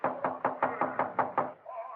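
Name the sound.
knocking on a door with a revolver barrel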